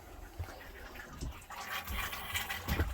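Faint water spitting and gurgling from garage plumbing just after an air compressor hookup, irregular splashy bursts under low background noise.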